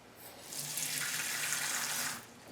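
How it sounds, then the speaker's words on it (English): Tap water runs steadily over freshly picked dandelions in a container with holes, splashing and hissing for about two seconds before cutting off. "lightly rinse it with water"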